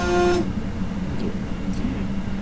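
In Train Simulator 2020 on the run from Naila to Kronach, a train's horn sounds once in a short, loud blast, then cuts off into the rumble of the moving train.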